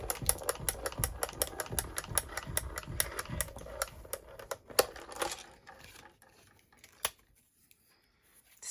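A Crafters Companion Gemini Mini die-cutting machine runs a second pass, giving a rapid train of close mechanical clicks and ratcheting ticks that thin out into a few scattered clacks before stopping.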